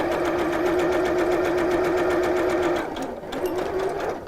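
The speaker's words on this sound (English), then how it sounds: "Make sure you take your pins out as you go. Don't pull and stretch the fabric as you're sewing." Domestic sewing machine stitching along fabric, a steady loud whirring buzz running almost continuously, with a short dip and restart near the end.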